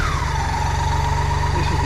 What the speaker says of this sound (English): This is the flying brick BMW K75RT. 75 means 750 cc. ABS, fuel injected.